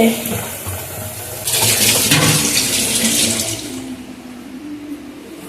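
Tap water running while dishes are washed: a burst of gushing flow splashes loudly for about two seconds midway, then eases to a softer trickle, with a voice talking faintly underneath.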